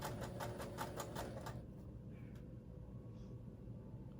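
Sewing machine stitching a sun dress with gray thread, a fast even mechanical chatter of rapid stitches for about one and a half seconds that then stops, leaving a low background hum.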